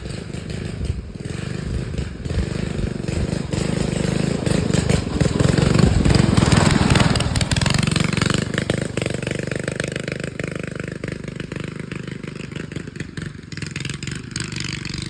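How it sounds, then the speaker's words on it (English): A 212cc Predator engine on a go-kart runs with a rough, clattering idle and swells in a throttle rise, loud and close throughout, with brief voices underneath. "this is my son's go-kart"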